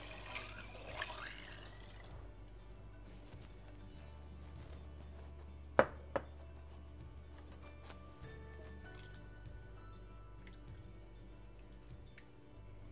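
Beef broth, 1.5 quarts, poured into a pot of chili cook-off chili, a quiet liquid splash and trickle running for several seconds with a couple of sharp knocks midway.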